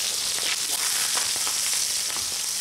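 Steady, dense sizzling of steaks and burgers searing on a Kool Grill, crackling and popping continuously at close range with no talking.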